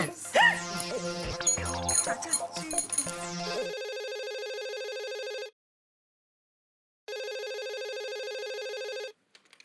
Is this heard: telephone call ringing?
yes